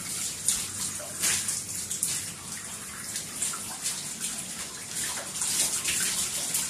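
Water runs steadily into a tub during a dog's bath, a continuous close splashing gush with faint drips and spatters, and no talking.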